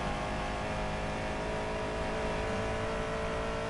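Car engine in Need for Speed Payback holding a steady, loud whirring drone with slight revving swells, alone without talk for a few seconds.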